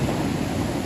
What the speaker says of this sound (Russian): Что-то волны прям какие-то.